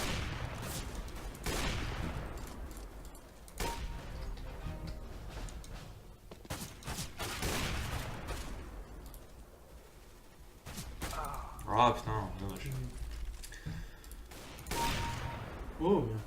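Repeated gunfire in CS:GO, including AWP sniper shots, crack out in bursts and single loud reports across the stretch, with a player talking intermittently over the shooting.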